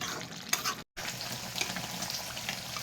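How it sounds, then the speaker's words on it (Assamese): Local chicken pieces frying in a pan as it nears doneness, giving a steady close sizzle with a brief silent break partway through. "মাংস প্ৰায় ভাজি হৈছেহি"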